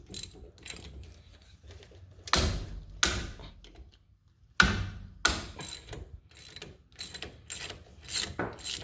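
Bolts being loosened and backed out of the front brake caliper on a Mazda CX9, giving a run of close, sharp ratcheting clicks and metallic knocks in short bursts, with brief pauses between them and no talk.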